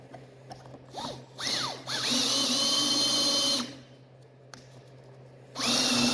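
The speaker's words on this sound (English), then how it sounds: "we're gonna hit it with some pocket screws here." A power drill drives pocket screws into wood for a reloading bench, with several short rising bursts followed by longer steady runs, close and loud, separated by pauses.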